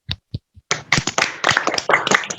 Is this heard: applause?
yes